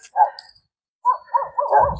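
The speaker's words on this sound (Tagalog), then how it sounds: "Kaso may mga aso. Patay tayo nito. Ayun, no? Tahulan ng tahulan" Dogs bark at a house lot in a residential area: a short burst, a pause, then a string of sharp yips and barks, fairly close and clear with no talking.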